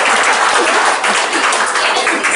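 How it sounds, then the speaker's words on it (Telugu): Dense, loud applause fills a psychology and hypnotherapy talk about children, many hands clapping steadily at close range with no break. "ఆయన ఒక్కరే చప్పట్లు కొట్టుకుంటారు"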